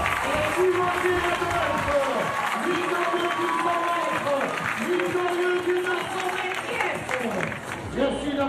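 A crowd applauds and cheers steadily for sprinter Timothée Adolphe at a televised athletics event, the clapping loud and continuous with an announcer's voice over it.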